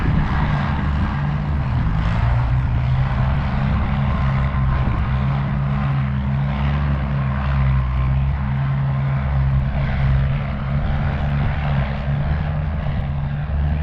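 A John Deere 1010 diesel tractor engine, freshly rebuilt, runs steadily under load with a continuous low droning rumble, close and loud throughout with no talk.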